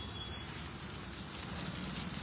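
Slow, steady rain falls in Sayajiganj, Vadodara, a faint, even patter of drops on surfaces with no voices, continuous for the whole stretch.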